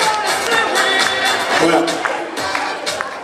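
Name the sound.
audience applauding a champion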